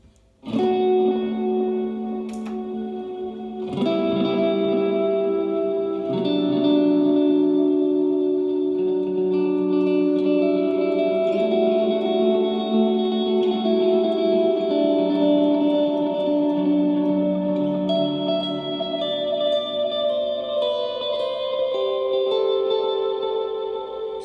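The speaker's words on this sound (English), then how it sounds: "once you add your delays and your reverbs, now sounds like this." Clean, simple electric guitar chords and notes ringing with delay and reverb effects, echoes and washy tails layering under sustained tones, steady and alone without talking.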